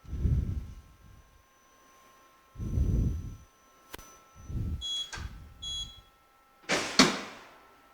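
An impact testing machine for materials beeps at the end of an experiment: a few short, thin electronic beeps in a quiet lab, along with low thuds and clicks.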